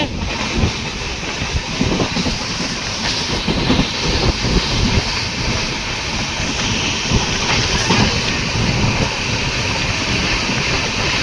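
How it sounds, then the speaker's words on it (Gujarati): A moving freight train rumbles past nearby, loud and continuous, with rhythmic clattering of wheels over the rails throughout. "સામે માલગાડી ટ્રેન આવેલી છે, તેમાં તમે જોઈ શકો છો. તે પણ ચાલતી ટ્રેન છે."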